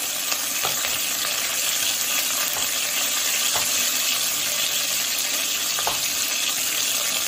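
Quartered mushrooms fry in a pan as part of a sole bonne femme, giving a steady close sizzle with a few faint clinks from a stirring spoon.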